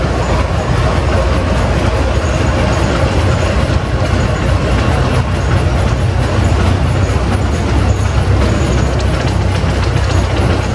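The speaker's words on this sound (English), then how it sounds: "This is a 1914 short boiler case, 40 horse" A 1914 Case 40-horsepower short-boiler steam traction engine rolls in a parade at an old threshers reunion in Mount Pleasant, Iowa, with a loud, steady mechanical rumble and clatter that fills the whole stretch.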